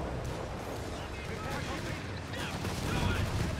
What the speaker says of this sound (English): There's the white phosphorus rounds.